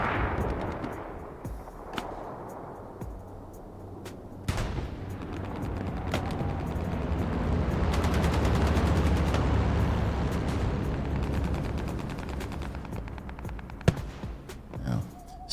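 Anti-tank gun fire in the Hell Let Loose video game, heard as sharp reports at scattered intervals over a continuous rumble of battle, with a louder crack near the end and a voice talking throughout.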